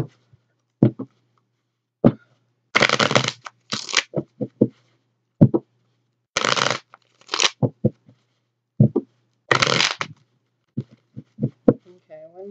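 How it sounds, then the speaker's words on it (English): Bursts of tarot card shuffling, riffles and shuffles in short clusters separated by quiet gaps, close to the microphone. "Shuffle here."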